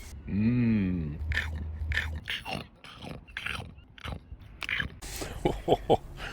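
Someone eating fish and chips, with close, wet chewing and crunchy bites after a brief nasal hum at the start, the mouth sounds coming in irregular bursts.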